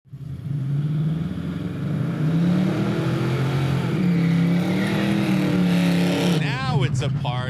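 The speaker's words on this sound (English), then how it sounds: "I'd like to just full throttle off the line, stay into it" Hot rod Chevrolet Nova launching off the line at full throttle, engine roaring loud and close with a steady rising pitch for several seconds before a sharp shift in tone near the end.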